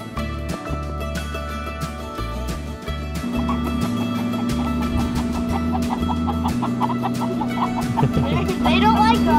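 Chickens cluck and fuss close by on a farm over a steady low hum, a sustained tone joining partway through and continuing to the end.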